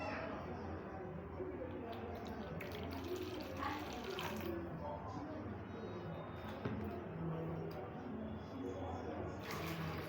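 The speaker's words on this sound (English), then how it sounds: "I'm going to measure 152 grams of water." Water runs steadily from a tap into a container, measured out for soap making, a continuous soft splashing under faint voices in the background.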